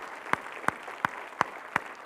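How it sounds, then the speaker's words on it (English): Audience applause closes a panel session at the G20 Standards Dialogue conference: a soft, steady patter of clapping with about five sharper, evenly spaced claps standing out over two seconds, fairly quiet and with no voices. "may I ask you all to give a round of applause to this panel."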